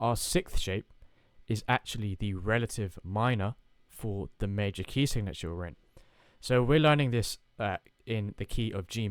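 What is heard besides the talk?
No everyday noises stand out.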